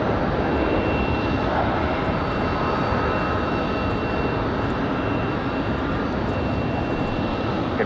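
An AeroMexico airliner on approach to Raleigh Durham airport on a windy day, a steady broadband jet roar that holds loud and constant throughout, with a faint whining tone above it.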